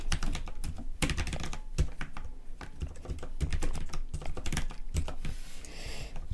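Rapid clattering keystrokes on a computer keyboard, entering a code for the Roblox game Epic Minigames, come in quick uneven bursts with brief pauses, close and fairly loud.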